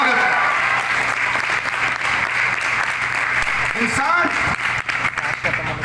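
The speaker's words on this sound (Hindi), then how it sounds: "जो 75 में जवान हैं और तालियों से स्वागत कर रहे हैं" An audience in a hall in Amravati, Maharashtra claps steadily to welcome a speaker, a dense sustained applause that fills the whole stretch, with a voice talking over it in places.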